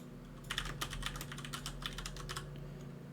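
Fingers type on a computer keyboard in quick, irregular bursts of soft clicking keystrokes, close and fairly quiet over a low steady hum.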